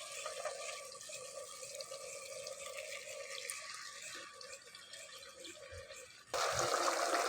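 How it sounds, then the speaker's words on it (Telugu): Water poured into a pan of mutton koftas: a steady liquid trickle and splash runs throughout, then turns into a louder, broader hiss of hot liquid near the end. "మనము నీళ్ళు అనేది కొంచెం సైడ్ నుంచి వేసుకొని"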